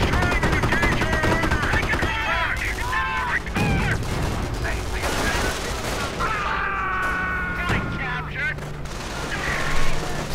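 Tank gunfire in Company of Heroes, a Sherman engaging a Puma armored car, with repeated shots and bursts of battle fire over a constant low rumble, while a voice talks over the action.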